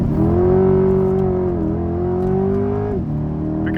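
A Corvette C8 engine is pushed hard in second gear, a loud, close, steady mechanical drone that rises and holds, then dips abruptly near the end before carrying on.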